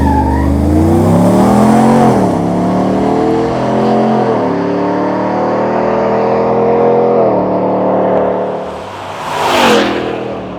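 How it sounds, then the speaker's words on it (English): Supercharged Chevrolet Silverado pickup with a full exhaust and catback accelerating hard down a drag strip, a loud, close engine roar rising through several gear changes, ending with a brief tire squeal or skid burst. "So now in the Fury development rig, sounds a little bit different. It's got the full exhaust."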